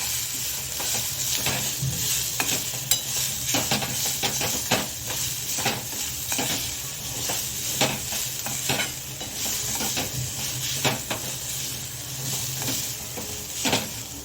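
Grated coconut being sautéed in a pan for a sweet filling, a continuous dry sizzle with frequent rhythmic stirring scrapes close by.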